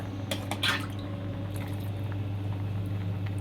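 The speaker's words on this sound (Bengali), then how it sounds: "একটুখানি বেশি জল দিয়ে ধুয়ে নিতে হবে। আলুটাকে ধুয়ে নিলাম।" A potato being washed in water in a small toy kitchen, heard as faint squishing and dripping with a few soft splashes and handling sounds near the start, then a quieter wet background.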